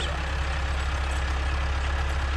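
A Massey Ferguson 385 tractor engine idles steadily nearby, a low pulsing chug with a constant rumble and no other sounds.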